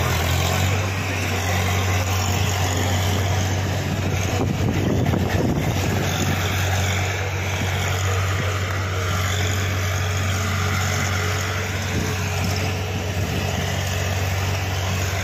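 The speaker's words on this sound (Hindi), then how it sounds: "स्वराज 733 FE, वैसे स्वराज का ट्रैक्टर बहुत बढ़िया ट्रैक्टर बताया जाता है" A Swaraj 733 FE tractor hauls a large loaded trolley uphill, its engine droning in a steady low hum throughout, with wind buffeting the microphone and a brief rougher surge midway.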